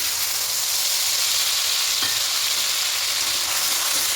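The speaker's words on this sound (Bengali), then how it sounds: "এবার এই পেস্টটা এখানে দিয়ে দেবো" A paste of cashew, poppy seeds and green chili fries in a pan, giving a loud, dense, unbroken sizzle and hiss at close range with a single faint knock midway.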